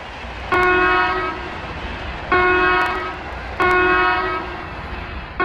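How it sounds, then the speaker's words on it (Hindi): An Indian Railways locomotive horn sounds three loud, sustained blasts in a row, each about a second or more long with short gaps between, over a steady rumbling background. "लगातार 10 छोटे हॉर्न का मतलब है कि कम्युनिकेशन पूरी तरह फेल हो गया है।"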